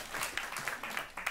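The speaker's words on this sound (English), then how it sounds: "Please give them a round of applause." A crowd applauds steadily, a brief wash of many hands clapping together.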